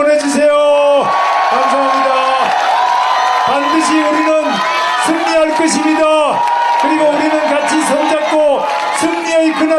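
A large crowd at a Korean political rally for Han Dong-hoon whoops, shouts and cheers loudly and without a break, with chanted calls rising and falling throughout.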